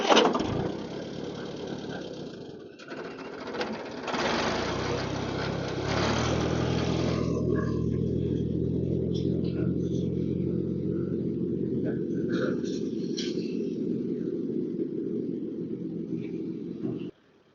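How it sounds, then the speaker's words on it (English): An Allis Chalmers D14 tractor engine roars under load, drops, then revs back up and settles into a loud, steady rough-running drone close by before cutting off abruptly. "Started running real rough. I revved her up to get the oil pressure up,"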